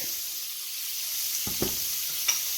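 Garlic fries in oil in a pan with a steady soft hiss of sizzling and a couple of brief clatters from stirring, close and moderately loud, with no talking.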